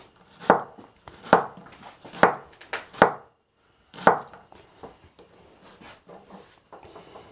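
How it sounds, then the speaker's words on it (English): A knife chops an onion on a cutting board in sharp, evenly spaced thuds, about five quick strokes, then a pause and a few softer, scattered knocks. "I have a nice Stuttgart onion for my root cellar and I'm simply going to chop this up"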